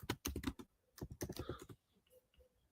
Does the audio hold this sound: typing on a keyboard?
yes